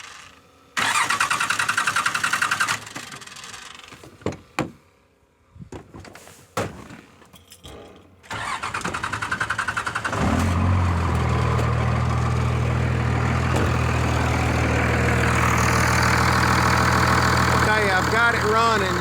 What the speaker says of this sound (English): I'm gonna crank it up and see what it does.